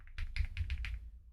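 Keys clicking on a computer keyboard during a Planet Coaster 2 livestream, about five distinct close taps in a quick uneven rhythm, with a low hum underneath.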